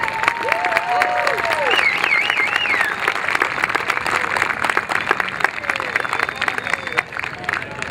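Crowd applause at a Little League opening day ceremony, honoring the 1966 team: steady clapping and cheering from a large outdoor crowd, with whistles and chatter mixed in throughout.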